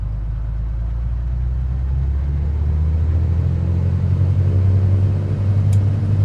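Carenado C182 RG II single-engine retractable-gear plane in a flight simulator game, its engine running up in a loud, steady low drone that builds slightly in pitch and power, alone without talk.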